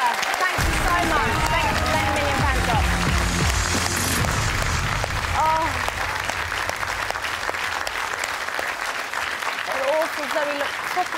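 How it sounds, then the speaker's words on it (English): A game show studio audience bursts into loud, sustained applause after a near-miss round, with bright whoops and voices rising through the clapping. "Big round of applause, please, for Zoe and Lisa."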